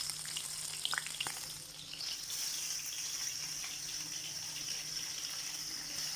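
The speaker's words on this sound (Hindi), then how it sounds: "और हमारी मिर्ची थोड़ी भून जाएगी" Chopped chilies frying in a hot pan for a Hindi-style nenua (ridge gourd) sabzi, giving a steady close sizzle with a few crackling pops early on. It carries on alone without talk.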